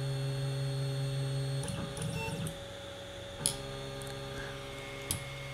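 An SC-10 Shark 3D printer runs its auto-leveling routine: a steady motor hum and whine, shifting pitch as the head moves, with a few sharp clicks from the probe.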